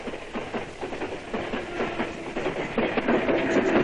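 A train rolls past close by with a steady rumble and rhythmic clickety-clack of wheels on rail joints, loud and continuous throughout.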